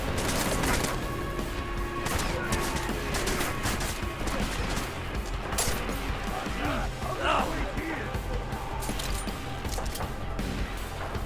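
Enemy gunfire in Deus Ex: Mankind Divided crackles throughout as scattered sharp shots and impacts within dense game noise, with a voice talking over the action.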